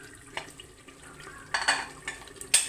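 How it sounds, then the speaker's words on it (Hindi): Chicken masala being stir-fried (bhuna) in a pan for a Bihari-style chicken curry: soft stirring and scraping with short sizzling bursts that grow louder toward the end, close by with no talking. "देखिए, भूंज रहे थे।"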